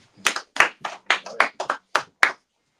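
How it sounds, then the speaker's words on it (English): Scattered claps from a small group at the end of a Sabbath class. About nine distinct, close, crisp claps fall at uneven intervals over a couple of seconds, then stop into quiet. "Let's clap it up"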